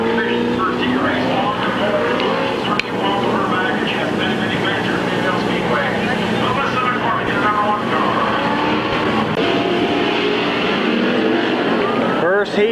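Street stock division race cars running a first heat at Midvale Speedway in 1993, a continuous loud engine roar from the pack that stays heavy and sustained throughout.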